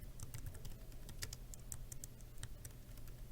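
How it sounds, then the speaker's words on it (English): Rapid keystrokes on a computer keyboard while entering a job title into an online job search form, an irregular run of close, quiet clicks over a low background hum with no talking. "So I'm going to type that in."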